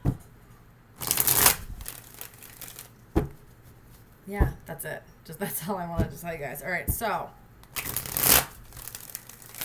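Tarot cards are shuffled in several bursts of brisk riffling and crisp flicks, interleaved with someone talking close to the microphone.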